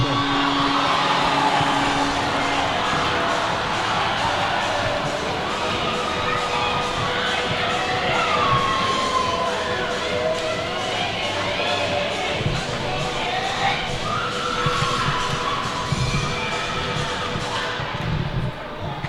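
A crowd at a high school basketball game between St. Paul's Big Red and the Proctor Hornets cheers in a loud, continuous roar that fills the gym throughout, with occasional thuds beneath it.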